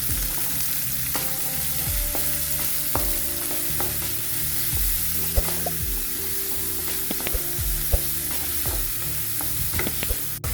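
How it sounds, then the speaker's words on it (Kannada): Sliced onions frying in hot oil in a pan while cooking bhindi masala, a steady close sizzle with repeated scraping stirs and light clinks throughout, no talking. "ಈಗ ಉಳ್ಳಾಗಡ್ಡಿ ಹಾಕೋತೀನಿ ರೀ. ಉಳ್ಳಾಗಡ್ಡಿ ಹಾಕೊಂಡು ಎಲ್ಲ ಹುರ್ಕೊತೀನಿ."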